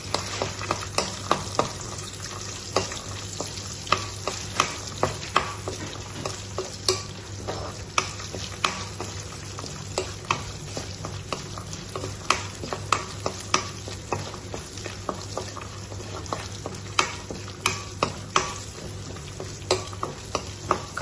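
Ingredients for a cashew paneer curry roast in a pan, giving a continuous frying sizzle with rapid scraping stirs throughout, close and steady, no voices.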